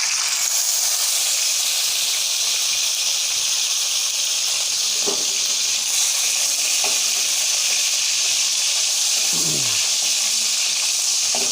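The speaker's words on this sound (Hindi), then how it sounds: "मेवे को फ्राई करेंगे।" Dry fruits fry in hot oil in a kadhai on a stove, a steady, even hiss and sizzle with a few faint scrapes and clinks from stirring.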